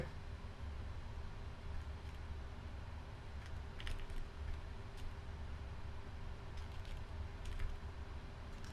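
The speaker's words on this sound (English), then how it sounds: "Typing a message as we speak." Keys tapped on a computer keyboard during a Flight Simulator 2020 session flying an Etihad Cargo 777 freighter, faint scattered clicks in small irregular bursts over a steady low background hum, with no speech.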